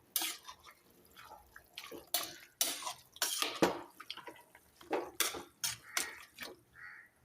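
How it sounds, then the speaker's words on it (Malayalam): A spoon scrapes and clinks against a pot while beef curry is stirred, in irregular close bursts with quiet pauses between. "നല്ലവണ്ണം ഇളക്കി ചേർക്കുക"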